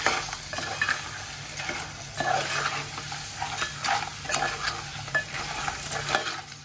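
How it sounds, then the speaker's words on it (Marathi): Small crabs (chimbori) are stirred and fried in hot oil over a high flame for an Aagri-style dish. A steady close sizzle runs throughout, broken by repeated utensil scrapes and stirring strokes, with no voices. "यांना आता आपण चांगलं तेलावरती ना परतवून घ्यायचे आहे."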